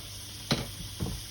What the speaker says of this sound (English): olive oil in the pan, and we want to chuck the onions in